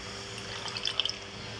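Cooking liquid from river clams trickles and splashes softly as it is poured into a pan, with a few small drips standing out midway. Quiet and close.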